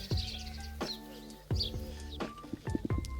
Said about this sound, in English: the birdsong is back, like, better than ever before